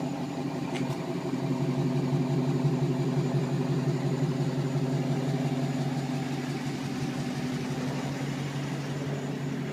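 A 2013 Dodge Challenger R/T Plus idles with a steady, even rumble at close range, the engine note holding constant with no revving throughout.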